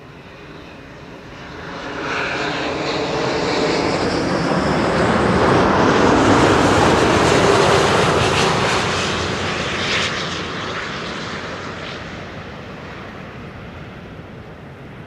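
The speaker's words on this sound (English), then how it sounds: "Nice gentle landing there. Those Delta pilots sure know how to butter their landings." Delta airliner landing on Kaagbaan runway 06 at Schiphol, a broad jet-engine roar swelling over several seconds as it passes close, then easing into a steady rumble; no talking.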